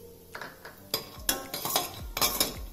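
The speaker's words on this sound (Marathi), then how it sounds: "ह्यामध्ये पाव कप खोबरं भाजून घेऊया" Desiccated coconut roasting in a little oil in a kadai, heard as a series of sharp scraping and clinking strokes of a spatula against the metal pan, close and irregular, with no voices.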